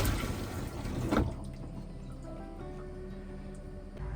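Water running into an RV holding tank through a hose, a soft steady trickle and gush that briefly surges before settling into a faint, even flow with light drips.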